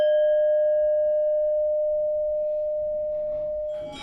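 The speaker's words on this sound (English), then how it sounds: "When played together, the slight difference in tuning creates a rich and vibrating sound known as Pembak, which means wave." A Balinese gamelan Wadon and Lanang pair is struck together, a clear bright metallic tone that rings steadily and slowly fades, with a faint new sound entering at the end.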